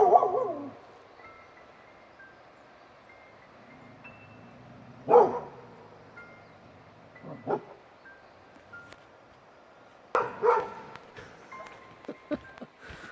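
A dog barks in a few separate bursts, with quiet gaps between them and faint tones in the background.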